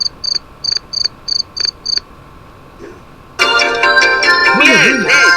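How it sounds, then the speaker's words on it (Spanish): A cricket chirps in short, evenly spaced bursts for about two seconds, clear and close; after a pause a loud, bright electronic jingle with sweeping tones takes over. "grillo, es un grillito."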